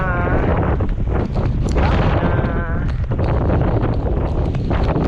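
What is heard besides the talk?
strong wind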